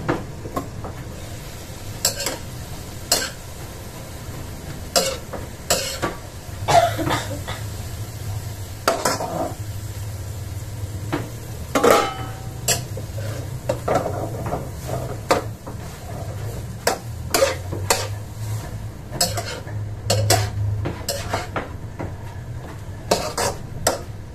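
A utensil stirs bopis in a pan, scraping and clinking in irregular bursts over a low steady background hum.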